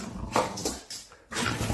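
A dog whines and whimpers in a few short, close, moderately loud bursts, with no talk over it.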